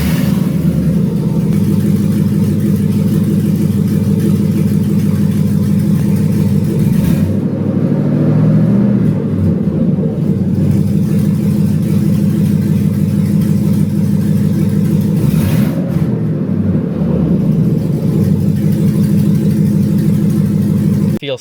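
A Land Rover Discovery II with a swapped LS V8 engine runs steadily and loudly throughout, with a dense low rumble and two brief dips or throttle changes partway through, and no talking over it.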